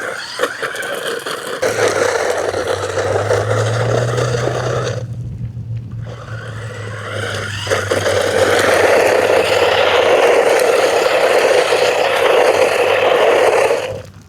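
The electric motor of a 1:12 RC short course monster truck rock crawling whines and drones almost continuously, close and fairly loud. Its pitch shifts with the throttle, there is a brief dip midway, and grinding scrapes run underneath.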